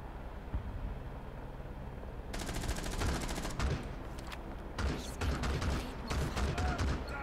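Gunfire in the video game Rainbow Six Siege, bursts of rapid automatic shots coming in clustered volleys over a steady background hiss, fairly loud and close.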